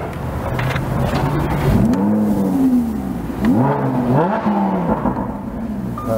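A Lamborghini sports car engine revs loudly in several rising and falling bursts, each swell climbing sharply then dropping back, close by with no talking.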